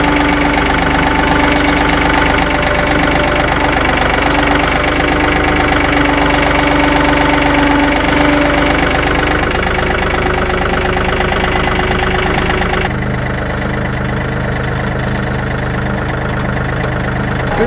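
A farm tractor engine idles steadily up close with a low, knocking diesel chug, its pitch shifting slightly partway through.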